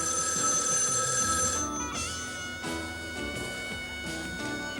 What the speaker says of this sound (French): Oh, Lenny, téléphone!